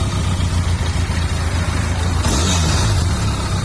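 A 2020 Benelli TRK502X motorcycle idles loud and close with a low, even thrum, then gets a brief rev past two seconds that rises in pitch before settling back.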